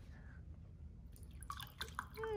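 Water is poured into a glass: a few quiet drips and splashes are followed by a short, rising gurgle as the glass begins to fill.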